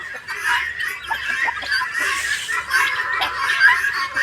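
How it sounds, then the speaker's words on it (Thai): A flock of breeding guinea fowl on a farm calls out in rapid, overlapping chattering cries, moderately close, with no talking. "นี่คือฝูงไก่ต๊อกบ้านเรานะครับ"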